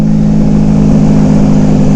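A motorcycle engine with a loud aftermarket exhaust runs at a steady, throaty drone, close and very loud with a strong low hum throughout and no talking.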